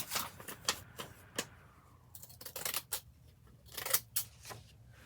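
Fiskars scissors snip through craft material in a series of short, crisp cuts at close range, with quiet pauses between bursts and no talk.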